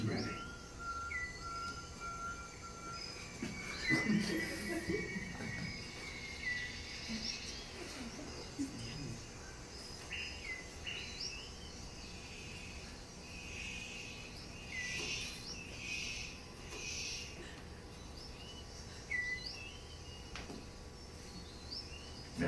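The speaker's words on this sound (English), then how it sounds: "The superb bird of paradise calls to attract the female" A superb bird of paradise calls to attract a female, with faint chirps and tweets over a steady hiss of forest insects, quiet and somewhat distant throughout.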